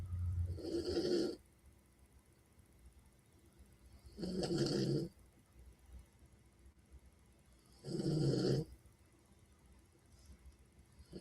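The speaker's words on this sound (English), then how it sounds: "He's snoring again." A man snores in three loud, drawn-out rasping breaths spaced about four seconds apart, each standing alone against a quiet room.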